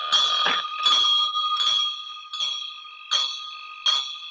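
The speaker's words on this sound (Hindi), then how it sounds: "तुम दोनों घंटी बजाते रहना" A hand bell rung in repeated bursts, about six clangs with bright ringing overtones that linger briefly between strikes, close and fairly loud with no talk.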